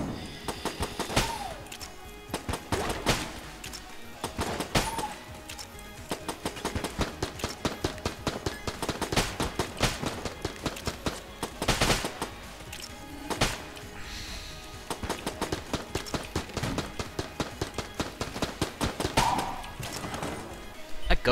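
Rapid gunfire from a weapon in the video game Enter the Gungeon, a steady stream of quick synthetic shots repeating throughout with occasional louder impacts and game effects layered over a busy mix.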